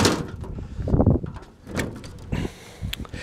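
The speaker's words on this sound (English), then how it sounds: "I guess I'll shut the door." A car door is shut and latched, giving a few sharp thumps and clicks spread over a few seconds, close by with no talk.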